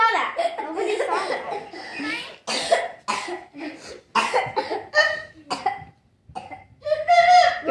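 A child coughs several times in short bursts, with some talking and laughter mixed in nearby.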